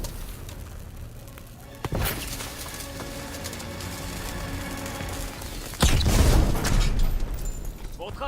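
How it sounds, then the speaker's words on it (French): A loud, deep thermite explosion bursts out mid-clip with a heavy rumbling boom, following a sharp crack earlier, over a steady backdrop of battle noise in the video game Call of Duty: WWII. "Ça va péter."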